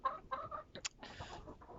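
Backyard chickens in a winter coop cluck softly in short, quick bursts, with a brief higher squawk, faint and close with no talking.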